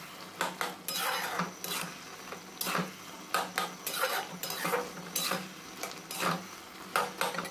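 Red lentils and bottle gourd cook in a pot over medium heat while a spoon stirs them in repeated bursts of scraping and clinking against the pot, with faint sizzling between strokes.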